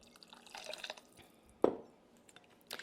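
Half a cup of water poured into a bowl during cooking: one short, close splash stands out against a quiet kitchen background.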